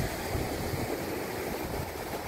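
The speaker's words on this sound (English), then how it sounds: "the waves." Waves washing onto a beach at night make a steady, dense roar of surf that fills the whole stretch at an even loudness, with no voices.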